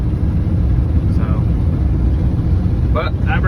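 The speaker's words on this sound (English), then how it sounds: "Thing sounds like a derby car." A car engine with a failing transmission rumbles loud and rough at close range, a heavy uneven drone with brief chirps from birds or squeaks over it.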